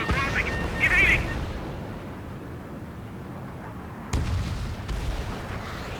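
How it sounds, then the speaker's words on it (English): Missiles launch and explode in the jet combat game Ace Combat 7, heard as a heavy rumbling roar with booming impacts. A sharp new burst comes partway through. Radio chatter blends into the noise. "Missile away."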